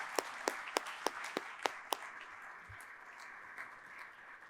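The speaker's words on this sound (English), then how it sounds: "let's give a big round of applause to all of our sponsors today" A short burst of applause, sharp claps at first that quickly thin into scattered clapping before fading into room noise.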